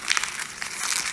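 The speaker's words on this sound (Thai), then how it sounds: "ขยำกระดาษจะเกิดเสียงยังไง" A sheet of paper crumpled by hand during a classroom sound experiment gives a dense, continuous crinkling and crackling, close and fairly steady for about a second, with no voices.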